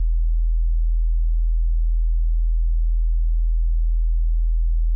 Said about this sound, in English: 41 hertz, this is the lowest E on a 4-string bass.